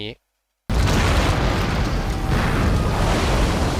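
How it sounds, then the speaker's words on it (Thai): A sudden deep roaring blast of an armory exploding follows a moment of silence, then a dense, sustained rumble of debris and fire fills the space loudly. "มาเรกไม่เชื่อจึงทำการจุดไฟในทันที และทำให้คลังแสงเกิดระเบิดแบบนี้"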